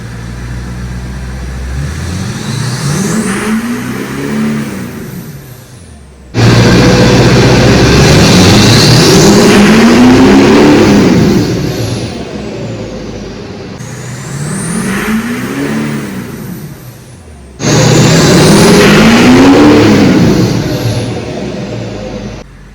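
A Chevrolet Duramax LBZ diesel pickup with an engine tune revs up hard in four loud bursts, each climbing and falling back, with the deep engine roar close by and no talking.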